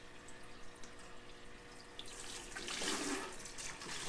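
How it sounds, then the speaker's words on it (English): A siphon restarts to drain water from a planted aquarium, with a soft trickle and splash of running water that swells into a fuller, steady gush after a couple of seconds, quiet and close, with no voices. "I'm just going to start my siphon back up again."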